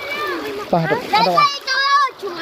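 Children's voices shout and chatter over water splashing close by, busy and lively throughout.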